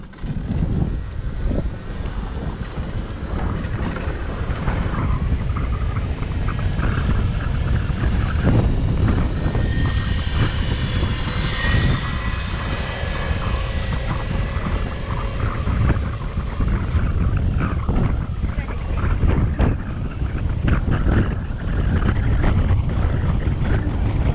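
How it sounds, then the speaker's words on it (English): A 72V 2000W electric dirt bike climbs a trail hill at wide open throttle, giving a steady loud drone buried in heavy wind rush for the whole stretch, with no voices. "Just hold it wide open throttle the whole way up the hill"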